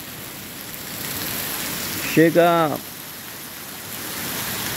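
Heavy October rain pours in Guajará-Mirim, Rondônia, a steady close hiss that continues throughout, with a single brief spoken word midway.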